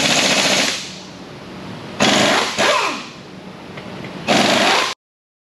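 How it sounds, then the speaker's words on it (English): An air impact gun and an electric impact gun working on a Cummins N14 engine teardown, loud rattling hammering bursts in three separate runs with quieter workshop noise between, close by and with no talking. "So we got air gun and an electric gun going here"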